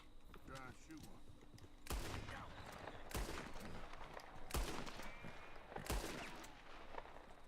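Gunshots fired at rabbits in Red Dead Redemption 2, four loud sharp bangs spaced about a second apart with rolling echo tails, over game ambience and some talking.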